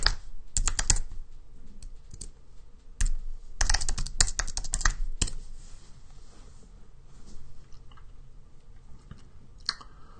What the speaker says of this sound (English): Maybe I'll just open up another tab here. Oh gosh, can't type.